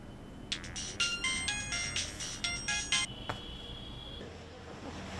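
A phone rings on an outgoing call: a run of bright, repeated electronic ring bursts for about three seconds, followed by a single long steady tone, then quiet.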